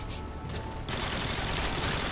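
Dense, continuous rapid gunfire in Modern Warfare 2 co-op Spec Ops fills the whole moment with overlapping shots at steady loudness.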